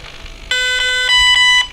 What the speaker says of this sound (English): wait for 4 tones